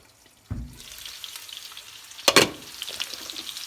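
Food frying in a pan is stirred, a soft sizzle under a thump at the start and a louder clatter of the spatula midway, followed by light scraping and crackle, close and with no talk.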